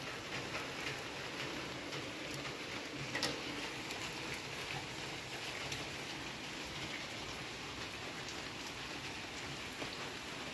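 Steady rainfall pattering on surfaces, a dense continuous hiss with scattered drip ticks and one sharper splash, moderately close and with no talking.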